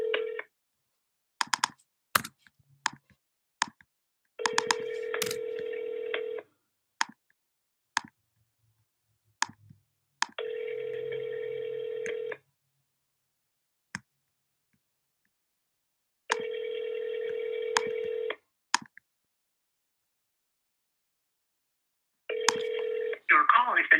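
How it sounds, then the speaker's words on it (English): An outgoing telephone call: rapid keypad tones and clicks, then long repeating ring tones in steady bursts separated by silent gaps, clear and close, with brief clicks between rings. "calling Carl right here"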